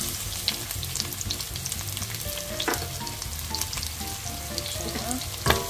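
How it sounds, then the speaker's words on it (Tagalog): Garlic and onion sauté in a hot pan with a constant close sizzle, broken by occasional clinks and scrapes of stirring, with no one talking. "Haluin po natin. Hanggang sa maghiwa-hiwalay ang sibuyas at magkulay brown na siya."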